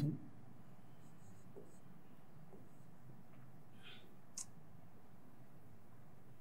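Pen or pencil writing by hand on paper during a Hindi class lesson for third graders, a faint, soft scratching that runs through the background with a few light taps, no talking over it.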